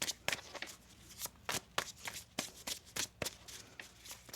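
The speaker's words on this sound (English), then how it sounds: "One more shuffle." Tarot cards are shuffled by hand in quick, crisp riffling bursts, close and papery, repeating in an uneven rhythm for several seconds with no talking.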